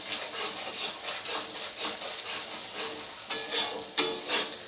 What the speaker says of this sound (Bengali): মশলাটা এইভাবে অনবরত কষাতে কষাতে যখন দেখবেন মশলার গা থেকে তেল ছেড়ে গেছে